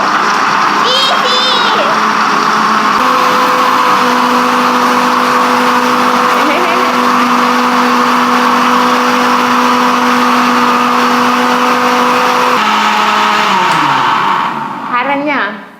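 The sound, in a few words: electric mixer grinder running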